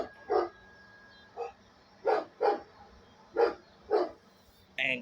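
A neighbor's dog barks outdoors in a series of separate woofs, about seven over a few seconds, spaced irregularly and moderately distant, with a faint tonal whine at the start and no talking.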